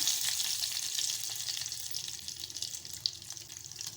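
Hot oil sizzles and crackles steadily as curry leaves are added, a dense hissing spatter with occasional sharper pops.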